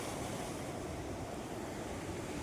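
Steady rushing of sea waves on a shore, a constant broad wash of surf with wind, no voices.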